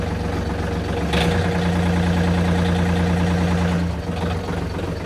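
John Deere 4415 engine idling, a loud steady low diesel drone close by with a slight shift in pitch partway through, no voices.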